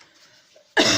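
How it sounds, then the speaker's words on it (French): One sharp cough bursts out near the end after near silence, loud and close to the microphone. "ça tousse encore un peu"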